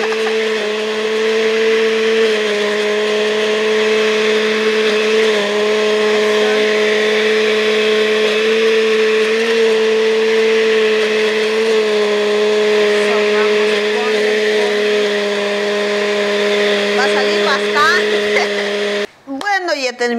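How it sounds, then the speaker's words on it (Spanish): A kitchen blender runs continuously on mango cake batter, a loud steady whirring motor hum holding an even pitch for a long stretch before cutting off abruptly near the end. "Terminamos de licuar"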